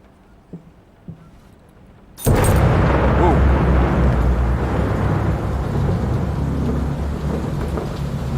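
Heavy rain pours steadily after a thunderclap bursts in abruptly, with deep rumbling thunder rolling under the downpour in a thunderstorm within the horror game Layers of Fear; a few faint sounds precede the storm's sudden loud onset.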